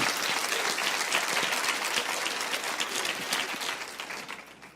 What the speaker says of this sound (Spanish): aplauden al Señor si quieren